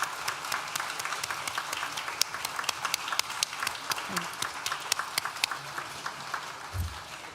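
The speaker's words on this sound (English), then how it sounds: "So, graduates, please stand and applaud." Applause from graduates standing at a university art and design graduation ceremony, a steady, sustained crowd clapping in a large hall with scattered distinct claps and faint background voices.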